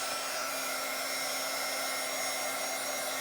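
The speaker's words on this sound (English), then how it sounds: "And this is as far as my heating tool stretches because I have a plug way in the corner." A heating tool used to dry a wet napkin for Bible journaling blows a steady, even hiss with a constant whine, unbroken for the whole stretch and fairly quiet, with no voices.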